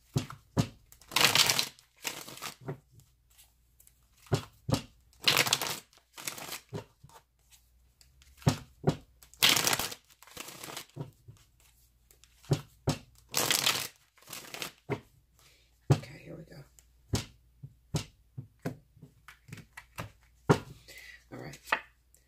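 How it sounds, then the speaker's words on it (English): Tarot cards being shuffled and pulled from the deck, with repeated crisp riffling and slapping bursts separated by quiet gaps, close and clear with no talking. "Let me just pull some cards."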